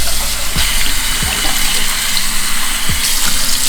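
Tap water runs steadily and loudly into a sink while bentonite clay mask is washed off a face, with a few soft splashes and knocks breaking through the continuous rush.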